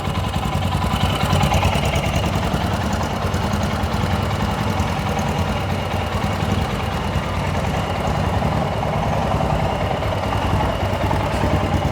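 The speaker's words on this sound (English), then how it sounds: "one-touch operation, we'll start it right up. Fuel injection doing its thing. Cold start" A Royal Enfield Himalayan 411 single-cylinder motorcycle, fuel injected and started cold, idles nearby. Its engine chugs in a steady low thump throughout, with no voices over it.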